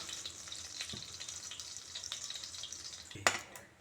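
Cumin and whole spices sizzle softly in melted butter, a faint continuous crackle with a sharper clatter near the end.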